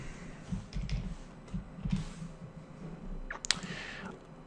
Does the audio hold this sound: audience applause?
no